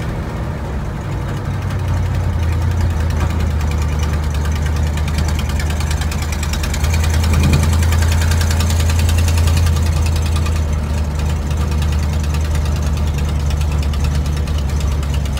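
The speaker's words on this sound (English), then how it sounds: "But it is loud, there's definitely exhaust leaks." A 1960 Cadillac hearse engine runs loud and steady up close, with a deep low rumble and ticking, rattling exhaust-leak sounds over it, and no one talking.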